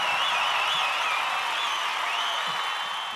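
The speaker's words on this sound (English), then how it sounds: "Wherever the cast and crew is seated right now, I just want you to cheer." Awards-show audience cheering and applauding, a dense, steady wash of clapping and crowd noise held at full level for a few seconds.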